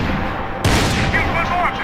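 Gunfire bursts out in the Max Payne 3 video game: a sudden loud blast after a quieter stretch, followed by dense echoing shots and game sounds.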